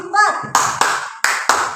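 Four sharp hand claps in an uneven rhythm, played as a tepuk counting game for ice-breaking, follow a brief voice at the start; the claps are close and crisp.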